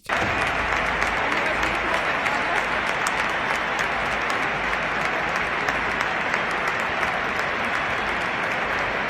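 Packed Bernabéu stadium crowd giving Shakhtar a standing ovation after a Real Madrid match, a dense, loud roar of clapping from thousands of hands that starts abruptly and holds steady throughout, with a voice faintly underneath.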